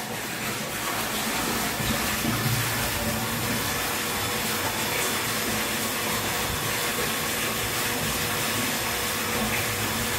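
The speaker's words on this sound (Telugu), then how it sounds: "ఇప్పుడు రా వాటర్ పంప్ ఆన్ చేయండి." A steady, loud mechanical whir with a rushing, broadband hiss runs without pause from the raw water pump of a 1000-litre RO water plant working nearby.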